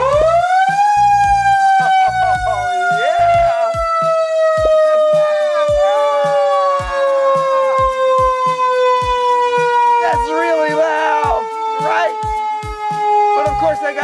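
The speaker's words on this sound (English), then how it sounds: "How about the siren? Let me try that." A loud, close fire truck siren at a fire station winds up and holds a long, slowly falling wail, with some voices and clattering faintly underneath.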